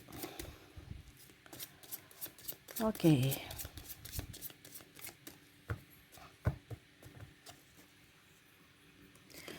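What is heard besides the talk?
shuffling tarot cards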